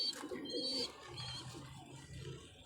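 Pigeons of a fancy breeder's stock coo softly in a loft, one bird calling more clearly at first before the low cooing fades into a quiet murmur. No voices are heard.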